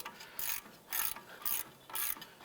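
A ratchet wrench clicks in four quick bursts of rapid pawl ticking, separated by short pauses, as it loosens a brake caliper bracket bolt on a 2006-2011 Cadillac DTS; close and fairly quiet, with no talking.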